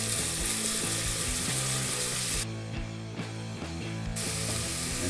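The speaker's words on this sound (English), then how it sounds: "next we're going to throw in the onion and the garlic. And we just want to saute those a bit," Onion and garlic sauté in a pan with a loud, continuous sizzle and hiss, a brief quieter dip midway, all over a steady low hum.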